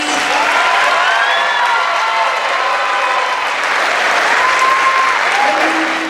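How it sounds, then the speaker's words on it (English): Loud, continuous crowd applause with some cheering and whistles for middle school band students at a winter concert, steady and full throughout without a break. "And let's give one more round of applause for all of our band students who performed tonight."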